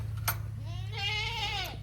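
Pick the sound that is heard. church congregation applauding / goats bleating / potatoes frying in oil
goats bleating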